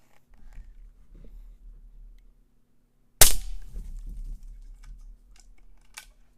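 A Taipan Veteran Shorty .25 air rifle lets off a single sharp, close crack that rings out briefly in an otherwise quiet space, with faint handling clicks before and after.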